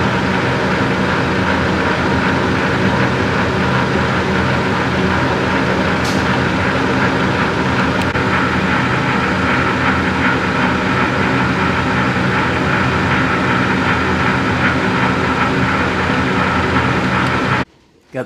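A tractor-driven rotary cutter fitted with a stump popper, its drive shaft spinning: a steady, loud broadband machine roar with a low engine drone throughout, ending in an abrupt cutoff.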